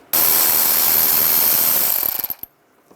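A ratchet fitted with a 7mm socket backs out a screw while removing the upper grille of a 2010-2017 Chevy Equinox, giving a loud, continuous rapid clicking close by that slows into a few separate clicks and then stops.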